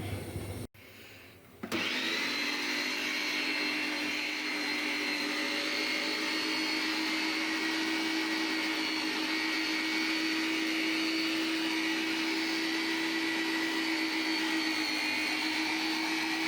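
An electric meat grinder mincing shredded cabbage kicks on after a brief quiet start and runs as a steady, loud motor whine with a constant hum for the rest of the time, without pause.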